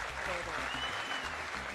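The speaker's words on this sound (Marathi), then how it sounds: "ह्याच्यासाठी टाळ्या वाजवा" A crowd applauds in a steady, moderately faint wash of clapping, with voices mixed in underneath.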